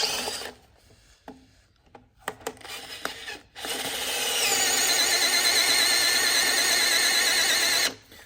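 A drill bores through an oak porch post, short grinding bursts with pauses, then a long, steady, high-pitched squealing rasp as the bit cuts through before stopping abruptly.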